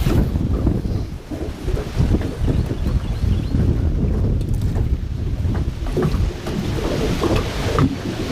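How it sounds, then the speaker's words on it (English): Strong wind buffets a fishing boat on open water, producing a loud, continuous rumbling roar against the microphone that surges and dips with the gusts. "Wind's blowing hard, it's making it go everywhere"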